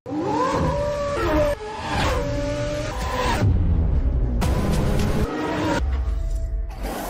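A race car engine in a racing simulator game at the Red Bull Ring, loud and continuous, revving up through gears with shifts and changing pitch, alone without talk.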